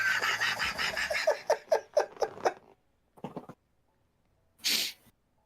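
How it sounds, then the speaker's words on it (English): A few small, dainty sneezes, a quick cluster of light high bursts followed by a couple of short snorts and one final sharp sneeze, close by with no talk. "Such dainty sneezes."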